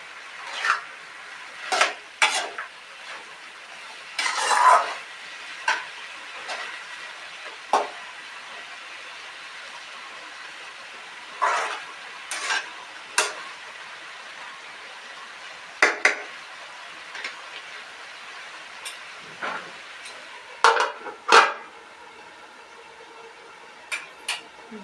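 A utensil scrapes and taps against a pan while vegetable upma is stirred, giving irregular clinks and rubbing strokes over a faint, quiet background sizzle, close by and without talk.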